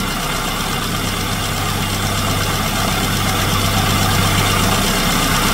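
A classic Mini engine idles steadily throughout while its distributor timing is adjusted, a continuous loud mechanical hum with a low, even drone and no talking.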